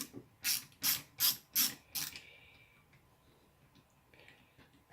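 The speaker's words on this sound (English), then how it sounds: "So we take that screw out at the bottom." Screw being backed out of the bottom of a Panasonic ES-SL41 electric shaver: five loud, close ratcheting clicks in a quick even rhythm, then quieter faint handling noises.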